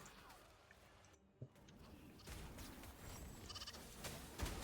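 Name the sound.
sheep bleating enemy in Wuthering Waves video game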